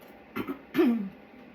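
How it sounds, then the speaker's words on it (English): Someone clears their throat close by: two short rough bursts, then a longer voiced rasp that trails off. "Forgive me for clearing my throat like that."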